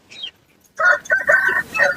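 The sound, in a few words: rooster crowing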